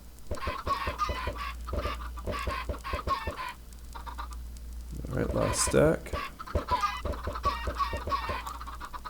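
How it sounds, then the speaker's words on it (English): Minecraft chickens cluck in repeated short bursts through a game session, with someone talking over them in between. "Clearly I'm killing the chickens."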